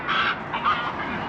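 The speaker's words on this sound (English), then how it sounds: "I can hear all the bin chickens." Two short, harsh, croaking calls of an Australian white ibis close by, rough and nasal, over faint background noise.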